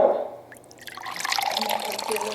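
Chocolate milkshake pours from a blender jug into a cup, a thick liquid splashing and gurgling steadily after a brief quiet pause, close and moderately loud.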